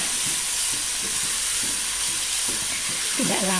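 Half-boiled noodles stir-fried in a hot pan: a loud, constant sizzling hiss with rhythmic scraping and tossing strokes underneath, heard up close.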